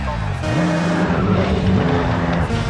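A race car engine sits on the starting grid in GRID 2, revving loudly with a rising and falling whine while a voice talks over it.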